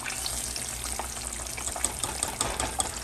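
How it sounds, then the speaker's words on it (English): Hot oil dripping and sizzling as golden fried catfish is lifted and shaken over the pan, a steady close crackle with small splashy ticks and no talking. "So just drain the oil off like this. Just shake the oil off"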